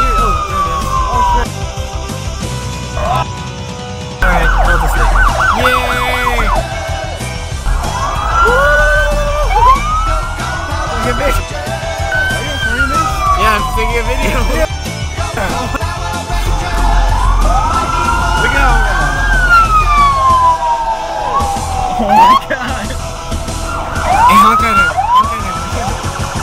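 A loud police siren wails and yelps continuously, its pitch sweeping up and down over a rumbling engine, close by and without talk.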